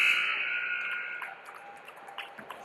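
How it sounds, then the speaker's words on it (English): Arena buzzer marking the end of a junior women's hockey playoff game at a rink, a loud sustained blare that fades after about a second into crowd noise and scattered rink sounds. "And now the buzzer will sound."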